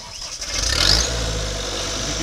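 A 2004 Vermeer SC60TX stump grinder engine cranks and catches, then settles into a steady mid-pitched running drone, close and fairly loud, with no talk.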